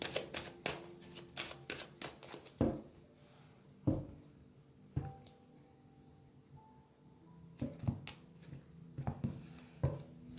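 Tarot cards shuffled and cut by hand, giving a run of soft riffling bursts and sharper slaps that come in uneven clusters, close and moderately quiet, with a faint tonal hum in the background.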